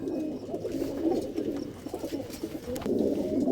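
Pigeons coo steadily on a rooftop loft where the birds are flown, a dense, continuous murmur of overlapping low throaty calls from several birds close by.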